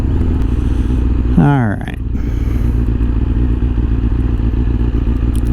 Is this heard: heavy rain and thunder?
no